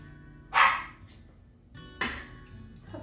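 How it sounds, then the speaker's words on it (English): A puppy barks twice nearby, sharp yaps spaced about a second and a half apart in a kitchen where a ham is being carved, with quiet background between. "Puppy barks."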